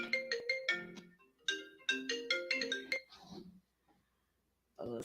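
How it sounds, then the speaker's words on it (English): A mobile phone ringtone plays a bright, melodic series of rapid chiming notes in two bursts, loud and close, then cuts out into silence before a voice starts talking at the end. "my phone, this is ringing randomly"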